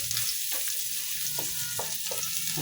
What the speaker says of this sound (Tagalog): Ayan guys, yung ating igigisa. Ayan, gisahan na natin.